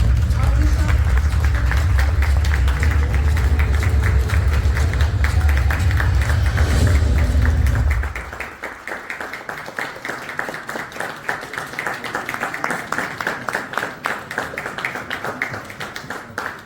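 A loud, rumbling crowd din gives way to sustained audience applause, many hands clapping steadily for several seconds.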